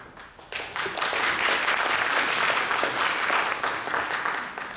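An audience at a Tagore festival cultural program applauds as performers are introduced. Dense clapping swells after a brief start and holds steady, filling the hall at moderate volume.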